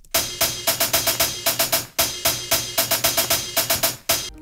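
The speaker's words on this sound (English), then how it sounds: "We have these two hats playing random rhythms like this." Two hi-hats play random rhythms inside a programmed breakbeat, their crisp, bright ticks falling in quick irregular clusters over a softer looping drum pattern, moderately loud and with no voices.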